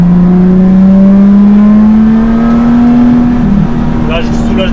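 A Lotus Exige S engine wails loud and close on a racetrack, its tone climbing steadily under acceleration before dropping off as the driver lifts, while the driver talks over the engine noise.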